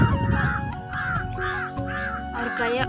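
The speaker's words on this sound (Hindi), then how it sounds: "कौवा तो इतना सारा चिल्ला रहा है आमा में बैठ के।" Several crows perched in a mango tree caw in a steady series of harsh, repeated calls, about one every half second, fairly close and loud over a low background murmur.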